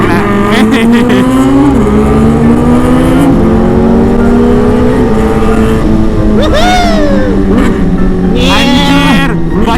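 Sport motorcycle exhaust, a ZX10R or CBR600, roars loudly and close, revving and accelerating through gears with rising, falling pitch and sharp blips, while voices talk over the engine.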